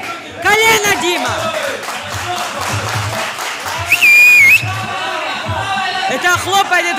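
Crowd at a semifinal bout clapping and cheering loudly, mixed with close shouted voices, a sharp whistle blast midway and rhythmic thuds in a reverberant hall.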